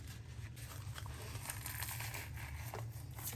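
Membrane ripped off a rack of raw baby back ribs by hand in a kitchen, a soft continuous crinkly tearing and peeling rustle, close and fairly quiet, with no talking.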